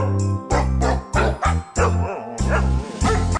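Dog barks arranged in pitch to play a Christmas song, a rhythmic series of tuned woofs and yips forming a melody over a steady musical backing.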